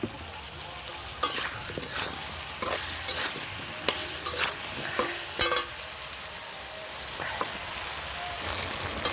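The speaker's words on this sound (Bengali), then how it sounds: "তোমরা দেখো, আলুটা ভাজা ভাজা হয়ে গেল।" Potatoes frying in hot oil in a pan, a close, steady sizzle broken by repeated scraping strokes of a spatula stirring them, with no talking.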